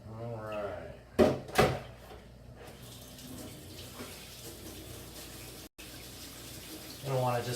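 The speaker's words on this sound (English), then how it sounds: "I'm going to go ahead and rinse it in the sink" A sink tap runs with a steady hiss while dyed plastic knife scales are rinsed, with a couple of clunks near the start and a voice talking over the flow.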